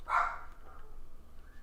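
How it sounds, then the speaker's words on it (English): A single short, fairly close bark from a dog, followed by quiet room tone. "This is just a podcast of my dog barking."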